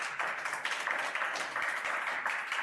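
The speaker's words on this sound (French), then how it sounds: "Applaudissez-le s'il vous plaît." Sustained audience applause and clapping at a live French show as the next participant is welcomed, a dense, steady wash of many hands with no break, fairly loud and close.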